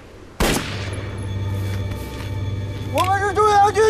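Rifle fire in a Red Army war drama set by the Xiang River cracks out in one sharp close shot followed by a sustained rumbling burst, then a voice shouts over it.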